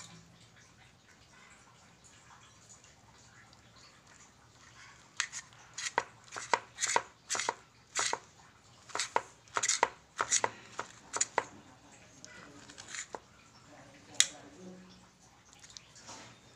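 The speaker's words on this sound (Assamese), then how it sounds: "আদাটো কাটি দিওঁ" Knife chopping ginger on a board, a run of sharp, distinct cuts in an uneven rhythm, close and fairly loud against a quiet background, with one more isolated cut after a short pause.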